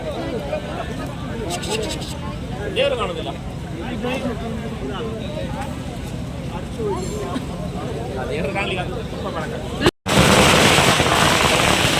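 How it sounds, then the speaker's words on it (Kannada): Firecrackers burst during a Chauthi festival night celebration, sharp cracks scattered through a steady crowd din with people talking, ending in a louder, dense burst. "ಪಟಾಕಿಗಳ ಹಾಕಿ"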